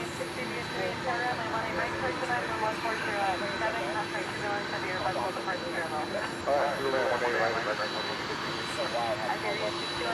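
An Airbus jet airliner at DFW Airport at night gives a steady, dense engine roar that holds for the whole stretch, with a brief swell near the end and muffled voices mixed in.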